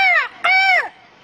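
Crow caws play as a sound effect: two loud, harsh, drawn-out calls close together, with the start of a third at the end.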